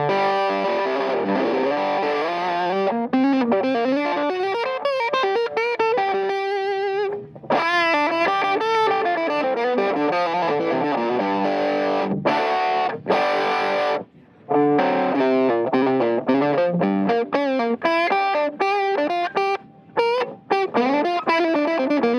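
A guitar effects pedal demonstrated on a NAMM show floor: distorted, compressed electric guitar plays fast melodic runs and chords with brief gaps, loud and close, with no talking.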